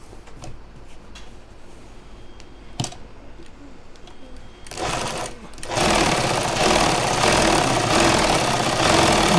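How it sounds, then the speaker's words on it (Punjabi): A sewing machine stitches a shirt collar, with a few scattered clicks and handling noises before the motor starts up and runs in a steady, loud whirring rattle to the end. "ਹੁਣ ਆਪ ਇਹਦੀ ਵੀ ਪੈਰ ਪੈਰ ਦੀ ਸਿਲਾਈ ਚਾਲੂ ਕਰਾਂ"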